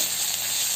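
Ginger-garlic paste and panch phoron frying in oil in a wok, a steady close bright sizzle with no break throughout.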